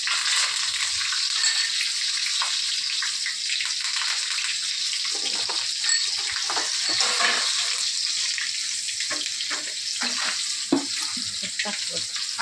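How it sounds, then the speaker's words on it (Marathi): Red chili and curry leaves tempering in hot oil, a dense continuous sizzle and crackle with occasional stirring scrapes, close and steady throughout with no talking. "आता हे पूर्ण फोडणी झाली."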